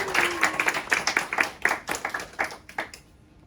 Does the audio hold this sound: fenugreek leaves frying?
no